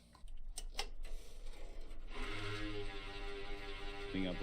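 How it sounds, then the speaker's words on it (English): A desktop computer makes a steady mechanical grinding hum with a rough, rasping texture that runs continuously, a faint higher whine joining partway through. "how to fix a grinding sound on your desktop computer that kind of sounds like this"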